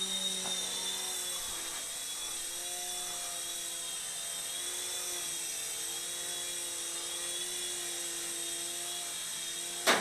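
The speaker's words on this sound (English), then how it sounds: "That's the SkyStar police helicopter with the little Lego guy in it." A Lego SkyStar police toy helicopter flies with a steady high-pitched motor whine and buzzing rotor drone, close and continuous, ending with a brief knock at landing.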